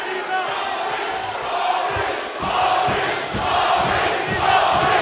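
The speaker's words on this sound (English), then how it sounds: "And they're chanting Maurice" A large UFC arena crowd chants in loud, rhythmic swells that rise and fall, echoing through the arena.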